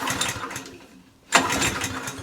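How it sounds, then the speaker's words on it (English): A Qualcast Suffolk Punch 14sk cylinder mower's small engine chugs nearby, cuts out into a brief near-silence, then catches again with a sharp burst and keeps running. "Pull the engine over."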